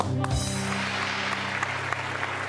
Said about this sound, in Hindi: इसमें ताली होनी चाहिए